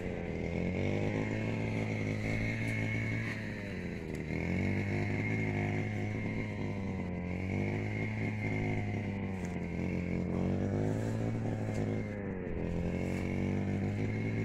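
A grass cutter runs steadily close by in a string bean garden, its small engine droning with repeated rises and dips in pitch as the throttle is worked, with no talking.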